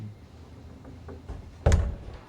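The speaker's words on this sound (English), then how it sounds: "Closing the door on our faces." A door shuts with a single solid thunk near the end, preceded by faint shuffling and a few soft knocks, heard close without any talking.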